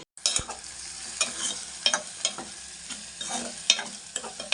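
Green chillies frying in hot oil for a spinach and tomato curry: a continuous sizzle broken by clear, irregular stirring scrapes close by.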